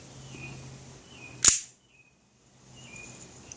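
An airsoft gun fires one sharp, close crack that rings out briefly and then fades to near silence, with faint background noise before and after.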